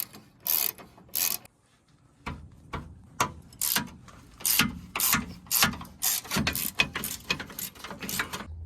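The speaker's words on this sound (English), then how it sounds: "I'm not usually a big ratcheting wrench guy, but this is really nice." Rapid clicking bursts of a ratcheting wrench working on truck bumper bolts for a 2nd Gen Cummins swap, coming in short repeated runs of ticks, close and fairly loud, with no talking.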